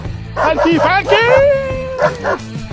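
A dog gives a drawn-out whimpering, yipping vocalisation, close and loud, with a couple of short yelps rising and falling over about three seconds.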